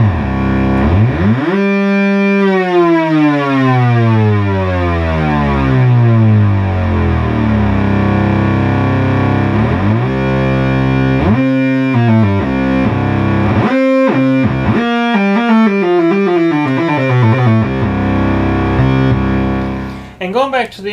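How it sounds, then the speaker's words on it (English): A Moog Source synthesizer's oscillators sweep loudly with glide, pitches sliding up and down in long swoops and distorted buzzing tones, repeated in several passes. "I will show you too the glide rate right quick works in your oscillators as well"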